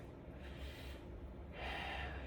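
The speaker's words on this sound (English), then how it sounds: "I'm very sorry that I'm yawning" Someone yawns with long airy breaths, a drawn-out inhale swelling into a louder, breathier exhale near the end, heard close and alone.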